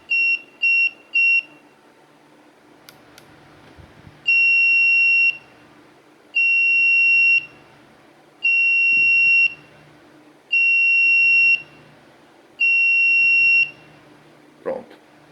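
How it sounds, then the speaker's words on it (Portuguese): FPGA electronic lock alarm after three wrong passwords: a few short electronic beeps followed by a steady series of five longer pure-tone beeps at regular intervals, loud and alone, with faint clicks between. "Quando erramos 3 vezes, ele exibe esse alarme, bloqueia o acesso por alguns segundos e volta a pedir a senha."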